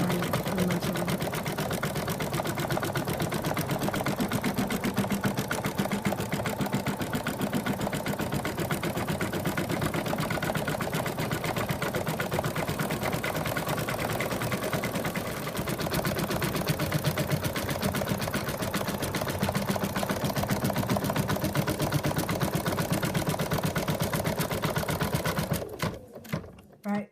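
An embroidery machine stitches the outline of a moose muzzle with fast, even needle chatter, a continuous mechanical whirr that runs for many seconds before stopping abruptly at the end.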